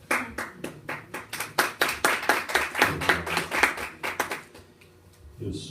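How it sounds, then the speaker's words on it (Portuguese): Audience applause at a church gathering welcoming new chaplaincy members: a steady burst of hand clapping from a modest crowd, fairly close, swelling then thinning out into scattered claps before a final short flurry. "merece neste momento um aplauso"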